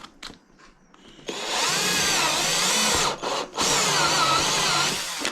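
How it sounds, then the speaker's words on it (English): A step drill reaching up to 20mm bores a hole in a steady, loud whine that runs for several seconds, dips briefly, then resumes, after a few short taps and clicks. "So this step drill goes up to 20mm"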